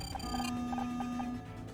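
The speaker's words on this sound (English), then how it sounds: "It's the fire alarm, Scout." A fire alarm goes off in the video game Murder By Numbers, a steady electronic tone under a string of short, repeating beeps that continue evenly with no one speaking.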